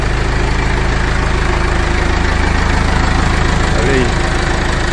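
A Massey Ferguson 290 tractor sits idling with a steady, low diesel rumble that holds constant from start to end, close and fairly loud, with faint background noise over it.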